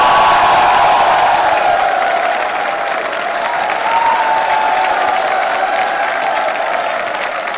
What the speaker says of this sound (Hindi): तालियां जोरों से बजा रहे हैं।